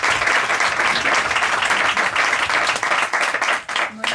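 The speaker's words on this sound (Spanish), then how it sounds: "Un aplauso para ella." An audience at a Spanish book presentation applauds a guest, a loud, close, dense burst of clapping that stays full and steady before thinning slightly near the end.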